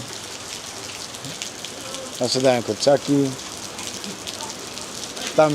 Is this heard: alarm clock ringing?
no